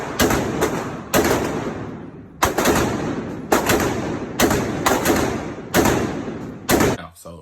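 Gunshots ring out at a shooting range: about seven loud, close reports spaced roughly a second apart, each with a booming echo tail that fades before the next shot.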